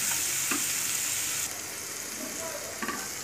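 Onions frying in a pan over a low-medium gas flame, a continuous bright sizzle with a few brief stirring scrapes, a faint voice briefly under it.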